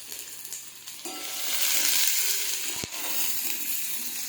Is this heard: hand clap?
no